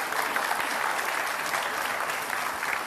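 Studio audience at a televised Jakarta gubernatorial candidates' debate applauds the two candidates, a dense steady wash of clapping held at even loudness for about three seconds with no voices over it.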